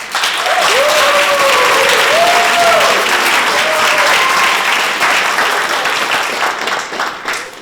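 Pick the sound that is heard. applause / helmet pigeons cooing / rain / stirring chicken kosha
applause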